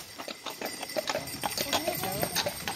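Horse hooves clip-clopping on a ride on New Year's Eve: a quick, steady run of close hoof strikes under a continuous hum of motion and wind, with a voice briefly audible.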